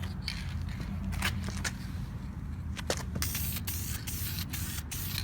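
Spray paint bursting from an aerosol can onto a car interior in short hissing blasts, some brief and some sustained, close and fairly loud, with no talk.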